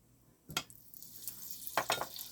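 Butter going into avocado oil in a hot pan sets off a soft sizzle, with a scrape or clink near the start and brighter crackling bursts toward the end, close and fairly quiet.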